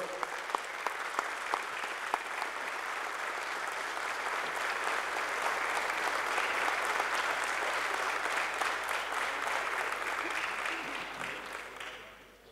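An audience at a municipal ceremony in Mogán honoring local police officers breaks into sustained applause, many hands clapping steadily for over ten seconds before it fades out at the end.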